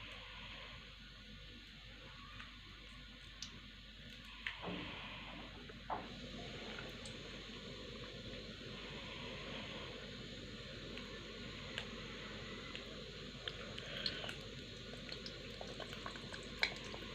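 A large Chinese samosa fries in hot oil, giving a faint, steady sizzling and bubbling hiss with occasional small pops, quiet and continuous throughout with no voices.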